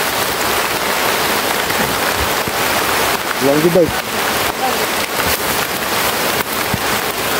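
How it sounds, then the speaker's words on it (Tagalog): Steady rain pours outdoors on a mountain, a dense broadband hiss filling the whole clip, with a voice speaking briefly and a short chirping sound partway through. "Yung nabutan kami ng ulan mga idol."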